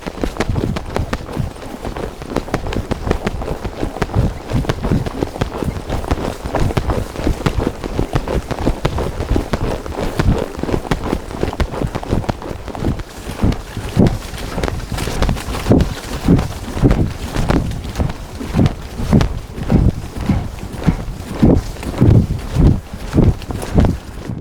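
Horse hooves clip-clop steadily on a trail as a young horse is ridden uphill and downhill, a close, continuous rhythmic walking beat with no talk over it.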